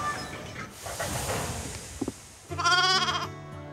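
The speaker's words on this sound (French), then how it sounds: "Mes moutons!" Sheep bleat loudly near the end, a wavering chorus of several animals after a stretch of hissing, steam-like noise and a couple of soft knocks, in a children's train cartoon.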